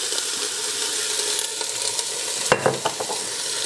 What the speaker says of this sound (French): Là, je laisse les oignons ramollir un peu.